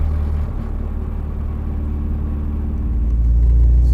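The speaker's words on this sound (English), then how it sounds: "So good noises when you let the turbos spool up." Saab 9-5 Aero turbocharged engine heard from inside the car, a steady low droning rumble that swells louder toward the end as the turbos spool up, with no talking.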